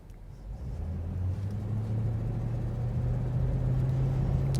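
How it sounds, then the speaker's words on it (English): A GM OBS Chevrolet truck engine accelerates before hard braking, its low hum rising and strengthening steadily as the truck gathers speed, heard close with no talk. "So I'm going to accelerate and then do a hard braking"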